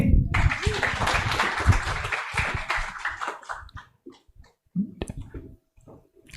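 Audience applause for a speaker at a university debate, a dense burst of clapping that thins out and fades after a few seconds, with an amplified voice speaking over the end.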